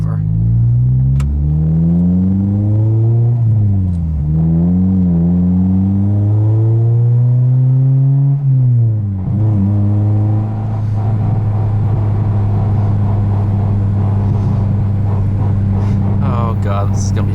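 A lowered 2009 Honda Civic Si with a K24 engine swap and aftermarket exhaust accelerates hard through several gears, its loud engine note climbing and dropping at each shift before settling into a steady rumble, with people talking over it.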